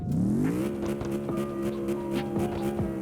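A simulated car engine in CarX Drift Racing Online holds at high revs, buzzing and stuttering repeatedly against the rev limiter in a steady, choppy rhythm.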